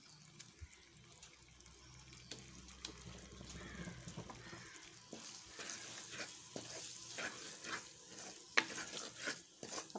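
Onions and spice powder fry in a pan for a Kerala-style fish curry. A faint, low sizzle runs throughout, and stirring scrapes and clinks grow busier in the second half. No voices are heard.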